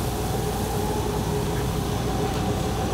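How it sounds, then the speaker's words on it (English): A Hardinge HLV-EM super precision tool room lathe with its spindle running in high gear at about 1100 RPM, giving a steady, smooth machine whir with faint tonal whine and no breaks or voices. "Spindle sounds nice and quiet. Go to high. It's about 1100 RPM."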